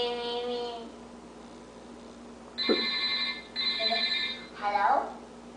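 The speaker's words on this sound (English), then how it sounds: "Is your phone ringing?" A telephone rings in short electronic bursts, a tone, a pause, then two more trills and a warbling chirp, fairly close, with a faint hum underneath and no talk over it.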